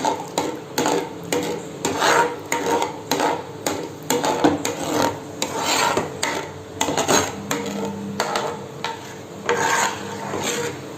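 White sauce pasta with milk being stirred in a pan, a spoon rasping and scraping the pan bottom in steady repeated strokes, close and fairly loud.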